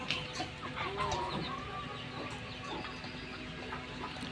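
Several chickens cluck close by in short, irregular bursts over a continuous low background of farmyard noise.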